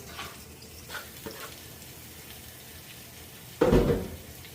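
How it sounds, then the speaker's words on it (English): Green tomatoes hitting saffron-infused olive oil in a pan, a faint soft sizzle for most of the stretch before a sudden louder burst of frying crackle that gradually fades. "I'm using saffron-infused olive oil."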